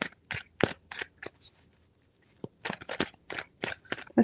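Tarot cards being shuffled give sharp, close riffling snaps in short bursts, a few quick flicks, then a pause, then a denser run of rapid card slaps.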